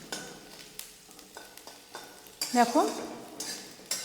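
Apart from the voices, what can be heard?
ginger frying and being stirred in a pan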